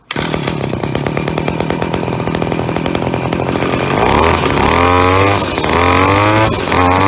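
An Echo SRM-2501 string trimmer's two-stroke engine fires almost immediately and runs loud and close, idling with a buzzing drone. It then revs up and down several times in high-pitched surges.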